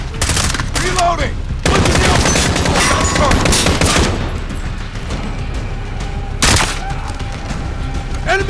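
Heavy automatic gunfire from the Call of Duty: Modern Warfare campaign battle, loud sustained bursts of rifle and machine-gun fire with sharp booming shots, mixed with shouted soldier voices.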